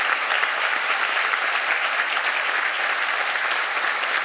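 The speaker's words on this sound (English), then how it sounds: "Please let's give them a hand of applause." Steady, dense applause from a commencement ceremony crowd honouring retiring faculty and trustees, an even wash of many hands clapping at once, sustained and fairly loud with no pauses.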